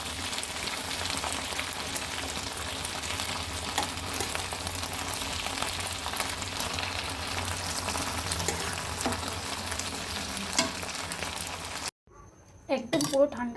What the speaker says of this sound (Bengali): মাঝে মধ্যে একটু করে এরকমভাবে উল্টিয়ে দিতে হবে, তাহলে সবটাতেই ভালো করে সিদ্ধ হবে।